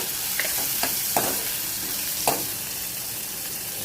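Malvani masala being stirred in a hot pan over high flame, a loud continuous sizzle with several scraping strokes of the spoon spread across it, close and alone.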